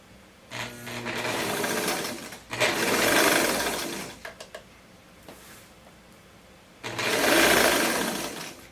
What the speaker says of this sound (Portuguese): Coloca aqui, alfineta e costura até embaixo.